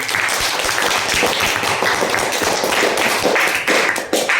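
An audience claps for a reader at an interactive read-aloud session, a dense, continuous burst of many hands applauding close by, without voices.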